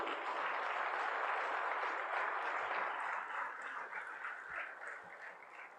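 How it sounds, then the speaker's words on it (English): Audience applause at a graduation ceremony for MBA and PhD batches at an Indian Institute of Management, a dense steady wash of clapping from a large crowd that gradually thins and fades toward the end. "So clap for all of you."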